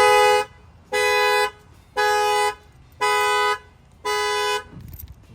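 A 2023 Ram 2500's factory alarm with an added shock sensor blares after a bang on the window, sounding five loud, even horn honks with short silent gaps between them, close by and with no voices.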